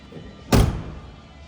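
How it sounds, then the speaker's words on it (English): A single solid thunk of a door shutting on a 1966 Ford Mustang Fastback Shelby GT-350 tribute, one short, close, fairly loud impact that fades quickly, with no voices. "Doors open and close nicely."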